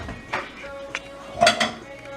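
A pasta bowl is lifted out and handled in a home kitchen during midday meal prep, giving a few sharp ceramic clinks and knocks close by, with a louder clatter near the end.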